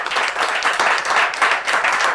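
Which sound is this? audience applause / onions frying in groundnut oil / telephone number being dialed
audience applause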